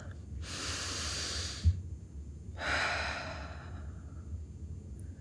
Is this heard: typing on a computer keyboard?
no